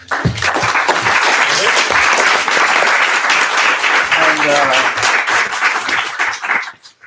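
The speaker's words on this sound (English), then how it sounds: "I'll give a round of applause to and" A loud, close round of audience applause after a speaker series talk, dense and sustained for about six seconds before tapering off abruptly.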